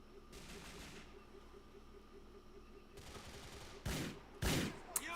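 Gunfire in Grand Theft Auto 4, with a low rumble of game noise at first and then a few sharp, loud bursts of shots near the end.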